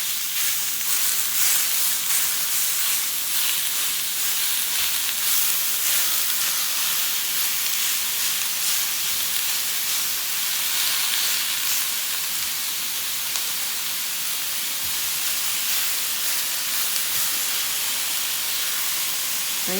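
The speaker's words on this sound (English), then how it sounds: "we're just going to take our ground beef and add into our pan here" Ground beef for chili sizzles loudly in a pan, a dense continuous hiss with faint scraping as it browns, steady throughout with no voices.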